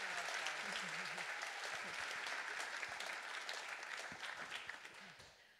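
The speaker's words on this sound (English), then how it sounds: "So a huge round of applause for James." A startup demo day audience applauds in a thick, continuous wash of clapping that stays fairly even, heard from a distance at low level, easing slightly toward the end.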